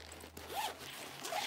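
A zipper on a handbag pocket is pulled open in two short, quiet rasping strokes, close by and with no talking over it.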